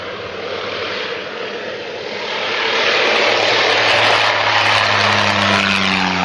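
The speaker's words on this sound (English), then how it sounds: "This plane taking off straight towards a landing plane." An airplane takes off with its engine roar swelling from a steady rumble to a loud, sustained drone, and no voices.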